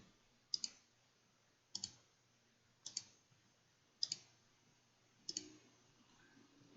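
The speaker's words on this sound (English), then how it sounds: "I'm going to click on each one and add them independently." A computer mouse clicks five times at roughly even intervals, each a crisp close double click against a quiet background.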